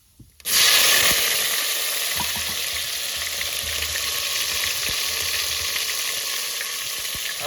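Cumin seeds and tomato hitting hot oil for a Gujarati bottle gourd and tomato dish burst into a loud, close sizzle that sets in abruptly after a brief quiet moment, then holds steady with occasional stirring clicks.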